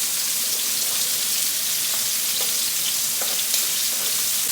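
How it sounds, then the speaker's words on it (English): Rice frying in butter in a pan, a steady close crackling sizzle with faint scrapes as it is stirred, no voices. "I'm going to continue to stir this rice, check this rice"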